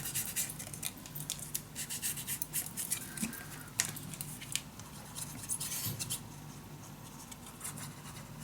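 Paper being cut for a Halloween mini album made from UHK Gallery papers, with scissors snipping and rasping in an irregular close stream of small cuts over a steady low background hum.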